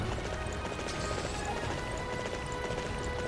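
Rhythmic hooves of a horse walking in the Dynasty Warriors 9 video game, clopping under a thick wash of ambient game noise, no voices present.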